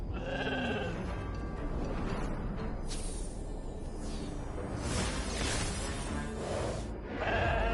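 Sheep bleat repeatedly in the video game Infinity Nikki over a dense, steady backdrop of sound, with a brief whoosh midway, and the bleats return clearly near the end.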